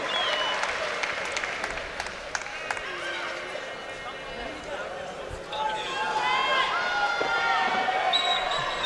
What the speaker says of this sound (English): And met with some applause as well